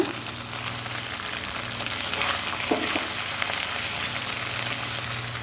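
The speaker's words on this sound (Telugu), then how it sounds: "కరివేపాకు ఓ రెండు రెమ్మలు కొంచెం వేయించుకొని" A couple of sprigs of curry leaves fry in hot oil in a pan with a dense, continuous crackling sizzle, close and fairly loud throughout, with no voices.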